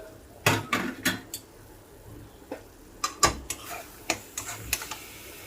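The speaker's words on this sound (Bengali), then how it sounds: "5 মিনিট লো ফ্লেমে রান্না করে নেবার পর আমি ঢাকনাটা খুলে দিচ্ছি।" A cooking pot lid lifted off after five minutes on a low gas flame while making potol bata, several sharp metallic clanks and taps, close and separate, with quiet gaps between.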